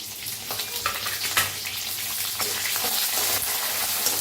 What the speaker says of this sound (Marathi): भाजून घेऊया. कसा कांदा भाजलाय बघा.